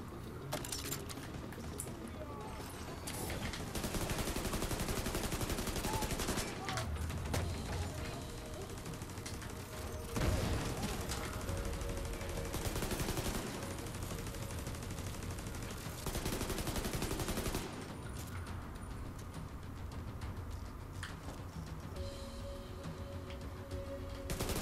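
Turret gunfire in The Division 2, a video game: dense, sustained bursts of automatic fire with mechanical clatter running through the whole stretch, loud and continuous with only brief easing between volleys.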